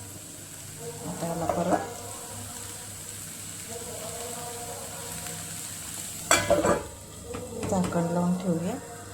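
A ridge gourd chutney mixture is stirred in a pan, with soft sizzling and a sharp scrape of the spoon near the middle, under intermittent talk.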